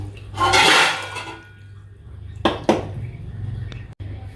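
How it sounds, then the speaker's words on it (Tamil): Water is poured into a pot of mashed cooked dal for a traditional South Indian lemon rasam. It comes as a close, splashy rush lasting under a second, followed by a couple of sharp utensil clinks against the vessel. "இதில் தேவையான அளவு தண்ணியை விட்டுக்கலாம்."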